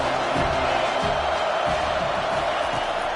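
Stadium crowd noise in the College Football 25 video game, a dense, steady roar of fans throughout with faint low murmurs beneath, even and unbroken.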